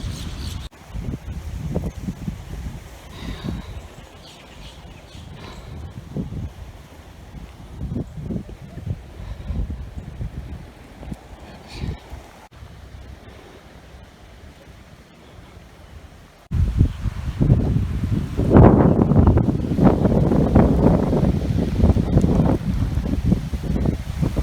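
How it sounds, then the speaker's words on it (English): Strong wind at a beach on Tybee Island buffets the microphone in continuous low rumbling gusts that grow noticeably louder and rougher partway through, with no voices. "Really windy now. It's been windy all day"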